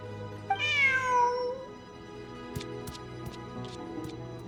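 A video game cat gives one drawn-out, rising-then-falling meow, clear and close. Soft clicks and a low ambient hum follow.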